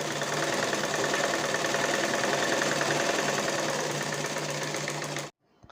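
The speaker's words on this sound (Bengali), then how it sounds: "উপর দিয়ে দুইটা চাপ সেলাই দিলাম, একটা হচ্ছে 116 আর একটা হচ্ছে" A sewing machine runs a steady, fast rapid-stitch drone while sewing bra fabric, close and even for about five seconds before stopping abruptly.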